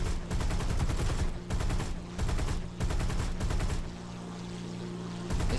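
An XP-38 fighter in War Thunder fires its .50 cal and 20 mm guns in long rapid bursts, a dense rattling chatter broken by short pauses, loud and close over steady engine drone.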